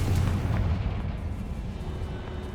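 A Confringo explosive spell goes off in Hogwarts Legacy on PS5 with a loud, booming blast up front, then a sustained rumbling roar that slowly settles without fully fading.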